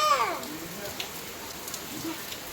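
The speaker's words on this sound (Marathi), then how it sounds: "हो मस्त पाऊस सुरू झाला बघा" Rain falls in a soft, steady patter on surfaces, faint beneath a voice and people talking nearby.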